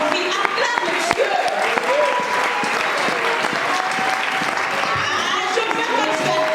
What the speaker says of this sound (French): Ah, je veux que tu acclames Dieu.